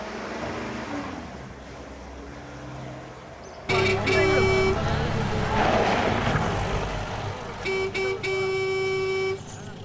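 A car horn honks in a film scene, two sustained blasts of a few seconds each, loud and close over road noise.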